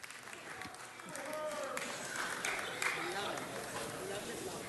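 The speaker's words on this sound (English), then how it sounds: "Let's give them another round of applause." An audience at a city council meeting breaks into sustained applause, a dense wash of clapping that swells and holds steady, with faint voices beneath.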